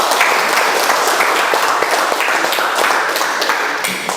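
A classroom of students applauds, with dense, steady clapping close by that carries through the clip and tapers slightly at the end.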